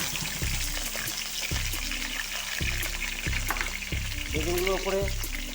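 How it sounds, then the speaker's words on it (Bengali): Eggplant pieces frying in hot oil for a mixed potato-eggplant vegetable dish, a steady broadband sizzle with periodic clanks and scrapes of stirring, fairly loud and close, no talking. "সবাই তেল আমার গরম হয়ে গেছে, এবার বেগুনগুলোকে দিয়ে দেবো। হালকা করে ভেজে নেব।"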